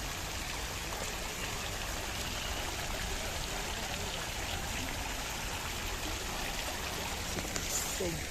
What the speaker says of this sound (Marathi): beautiful waterfall fountain here